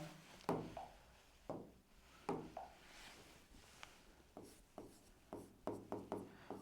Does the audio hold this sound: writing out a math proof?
yes